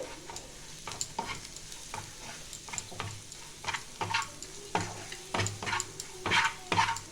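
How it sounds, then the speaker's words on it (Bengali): Spices with a little turmeric fry in a pan while being stirred, giving a low steady sizzle broken by repeated scraping and clattering strokes of a spoon against the pan. No one speaks. "আমার মশলাটা আবার ভাজা ভাজা হয়ে গেছে।"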